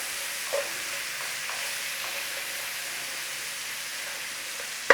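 Onions sautéing in a pan for a beef sandwich dip, a steady soft sizzle with a few faint stirring clicks throughout, fairly quiet and with no talking.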